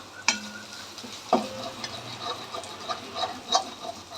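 Onions and tomatoes frying in a pan for kadamba, with a soft sizzle under sharp scrapes and clinks of a spoon stirring against the pan, several distinct knocks spread across a few seconds, no talk.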